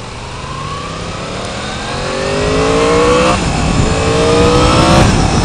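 A 2016 Yamaha R1 sport motorcycle with only an aftermarket exhaust tip revs its engine loudly and up close, pitch climbing through several rising sweeps and dropping back between them, with no voices over it.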